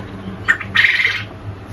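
Quail on a poultry farm give a short, sharp squawking call, a brief double note followed by a longer harsh burst, loud and close with no talking.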